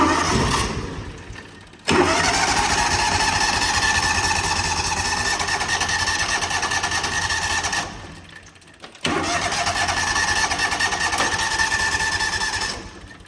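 A John Deere Gator 6x4 utility vehicle engine runs rough on one cylinder, a loud, close, uneven chugging idle that cuts out briefly once before catching again and carrying on.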